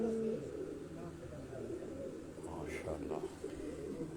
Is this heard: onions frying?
no